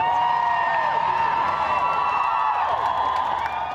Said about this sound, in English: I want to hear you cheer.